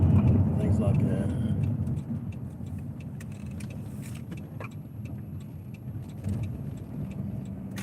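A Ford Mustang muscle car sits waiting for a race, its engine giving a low rumbling idle that fades slightly and then swells again, with people talking over it.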